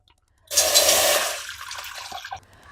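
Water is poured into a pot of rasam during cooking, a steady splashing gush that starts abruptly, holds loud for about a second, then tapers off with a few trailing splashes.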